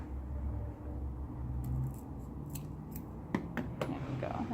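Scissors cutting material while making a collar bow: a few quick, close snips in the second half over a low, steady background hum.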